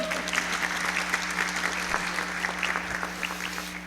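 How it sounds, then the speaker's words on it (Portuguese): A church congregation gives a round of applause for the pastor's wife: a steady, even wash of many hands clapping over a low electrical hum, with no speech. "Uma salva de palmas"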